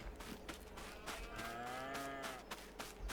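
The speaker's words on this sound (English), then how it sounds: "jump over to the cows here" A cow in Farming Simulator 22 lets out one long, drawn-out moo near the middle, with a livestock barn ambience and soft clatter around it.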